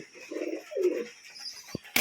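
Pigeons cooing at close range while being fed wheat and mustard seed, several low throaty coos in sequence, then a sharp brief rustle like wing flaps at the end.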